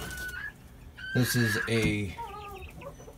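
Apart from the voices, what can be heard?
silver spangled Hamburg cockerel clucking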